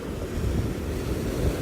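Water churns and rushes around a moving boat at sea off Jamaica, a continuous low rumbling wash of waves mixed with wind buffeting the microphone, fairly loud and without any voices.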